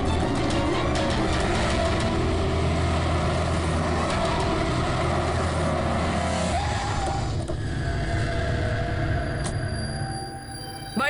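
A car engine drones loud and steady while the car overtakes a taxi on a city road, a constant broad roar of motor and road noise that eases toward the end, with no speech.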